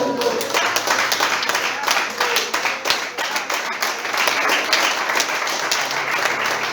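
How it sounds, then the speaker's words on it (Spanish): A church congregation claps during a Spanish-language sermon, fast rhythmic applause from many hands with sharp individual claps, steady and close throughout, with voices mixed in beneath the clapping. "Aplauda al que vive."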